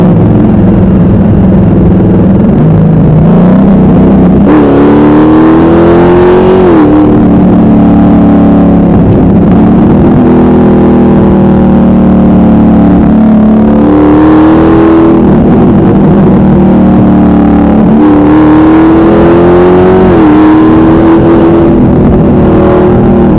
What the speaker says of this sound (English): I did some acceleration, some revs.